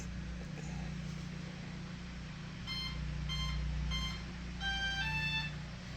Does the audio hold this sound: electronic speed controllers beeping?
yes